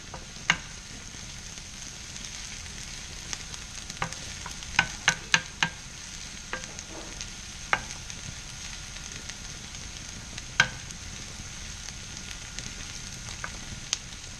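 Diced garlic cloves frying briefly in a pan, a steady soft sizzle broken by scattered sharp crackles and pops, close and fairly quiet with no talking.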